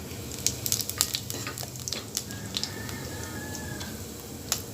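A teaspoon of whole cumin seeds sizzles in a cup of hot oil in a cooking pot, a steady close crackle with small pops and ticks throughout.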